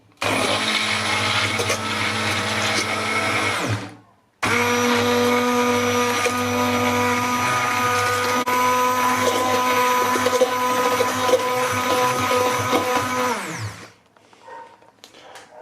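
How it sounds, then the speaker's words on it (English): A handheld kitchen whizzer runs loud and close, whipping a mixture until frothy in a continuous high-pitched whir. It stops briefly, starts again for about nine seconds, then cuts off and winds down, with no voices. "with my whizzer here, we're just going to whiz that up"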